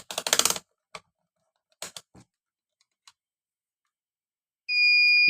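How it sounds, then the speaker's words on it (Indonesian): A short run of clicks and taps on a laptop circuit gives way to a multimeter continuity buzzer, a clear, steady electronic tone that starts abruptly near the end and holds, indicating a short. "Jika kita ukur seperti ini dengan mode buzzer"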